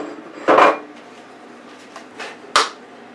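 An Oscar double waffle maker lid closes with one loud clattering clack near the start, and a smaller click and a second sharp snap follow about two seconds later as the latch locks, heard up close with no talking.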